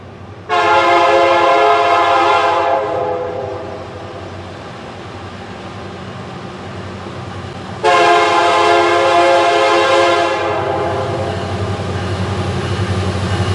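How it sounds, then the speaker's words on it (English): CP 7023 train running around a bend past the River Road/Road 52 railroad crossing, its horn sounding two long, loud blasts separated by a pause, over the steady rumble of the passing cars. "we watched as the train came running around the bend past us"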